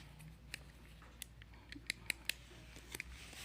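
A cutter snips motorcycle wiring in a few sharp, close clicks, several quick cuts in an irregular rhythm over quiet background hum.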